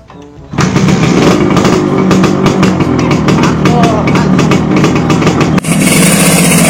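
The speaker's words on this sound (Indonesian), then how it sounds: "Dihirup teh motorna deui." A small motorcycle engine is started again, catching after a brief low idle into a loud, steady revving drone close by, with a sharp break near the end before it continues.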